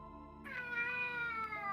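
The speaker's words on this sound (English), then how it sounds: "my cat has decided that he must DM. This is his talking time." A pet cat meows loudly and close by in one drawn-out, rising call that holds steady for over a second, with no talking over it.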